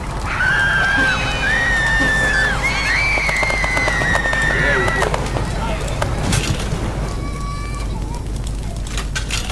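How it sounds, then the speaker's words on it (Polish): Burning items crackle and burst in a fire in the video game Little Inferno, with sharp popping explosions over whistling tones and game music, loud and close. "Piękny wybuch, moi drodzy."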